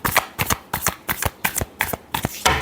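A deck of tarot cards being shuffled by hand, close up: about eight quick, crisp riffling bursts in an even rhythm, with no talking.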